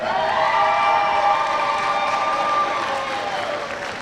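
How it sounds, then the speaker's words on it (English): Sustained audience applause and cheering at the Sacramento County Academic Decathlon Super Quiz, a loud, dense wash of clapping from a large crowd that holds steady and fades slightly toward the end. "And a round of applause for Rio Linda."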